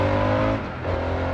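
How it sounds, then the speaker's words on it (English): A car passes on the road close by, a steady engine drone that dips briefly before another vehicle's hum follows, heard outdoors with no talking. "my apologies for the traffic"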